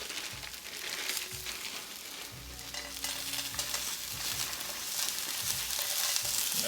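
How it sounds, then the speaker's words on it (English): Peas hitting a freshly oiled pan of fried rice set off a steady hiss and crackle, with repeated low scraping thumps as the spatula stirs, close by and moderately quiet with no talking. "we're going to do another shot of oil, and we're going to add our peas"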